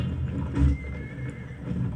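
A horse neighs in the medieval combat game Mount and Blade Warband, a short whinny rising out of the busy battle noise around the middle of the moment, with no talking over it.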